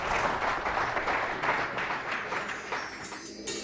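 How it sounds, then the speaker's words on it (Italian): Audience applause following a live Italian ballroom song performed by an orchestra, a steady moderately loud wash of clapping that fades slightly toward the end. "Ancora l'applauso."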